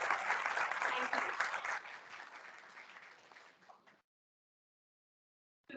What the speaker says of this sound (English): Let's have a big round of applause.